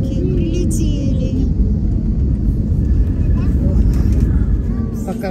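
Steady loud rumble of a passenger airplane just after landing, heard from inside the cabin, with engine and taxiing noise holding constant throughout.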